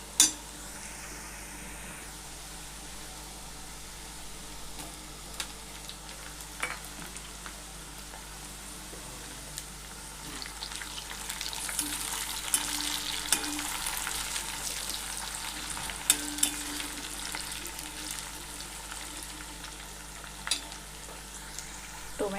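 Tomatoes sautéing with onion in a pan for Punjabi-style chole masala, a steady soft sizzle with occasional stirring scrapes, fairly quiet and continuous with no talking.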